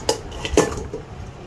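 Lid set onto a cooking pan, two or three quick metallic clanks and a rattle in close succession, sharp and near, then fading into quiet room noise with no talking.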